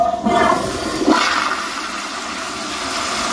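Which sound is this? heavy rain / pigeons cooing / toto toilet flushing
toto toilet flushing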